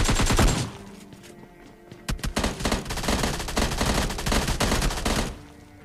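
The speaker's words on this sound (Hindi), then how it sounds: "इसकी टीममेट यहाँ पे आके एक शॉट गन चिपक दिया था मेरे को" Rapid bursts of gunfire in PUBG Mobile Lite, with a loud blast at the start, then dense, repeated shots rattling steadily close by for several seconds.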